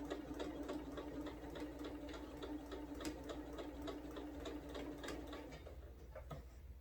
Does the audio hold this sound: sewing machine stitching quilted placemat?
yes